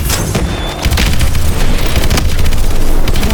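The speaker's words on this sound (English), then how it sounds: "And weapons fire and explosions sound good." Weapons fire and explosions in the shooter game Call of Duty: Advanced Warfare: loud overlapping booms and bursts of gunfire, dense and continuous, with sharp blasts punctuating a heavy rumbling din.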